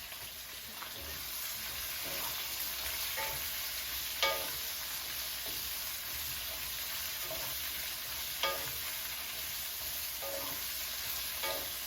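Onions fry in a pan for a garbanzo pulao, a soft, steady sizzle underneath a few scraping stirs of a spoon at irregular intervals, fairly quiet and close.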